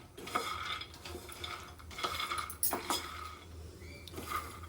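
Peanuts dry-roasted over low to medium gas for jaggery peanut ladoo, stirred in a pan with repeated light scraping and rattling of nuts against metal, steady and close, with no talking.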